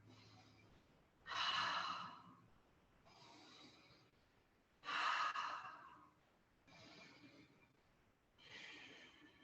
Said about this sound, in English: Big breath in, big breath out.